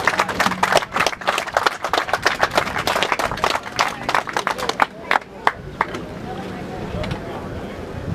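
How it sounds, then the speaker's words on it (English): A crowd gives loud, sustained clapping for the winners at a 2013 Ohio Valley River Cats team catfish tournament ceremony, a dense burst that thins out toward the end, with talk heard around it. "big round of applause."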